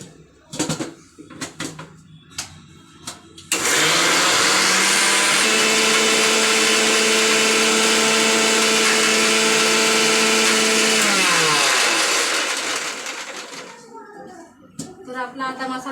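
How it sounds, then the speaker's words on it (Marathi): A mixer grinder grinding dry coconut, coriander, sesame, ginger and garlic into masala, a loud steady whirring roar lasting several seconds before it spins down, with handling clatter before and after. "आपण याला चांगलं मिक्सरमध्ये वाटून घेऊया"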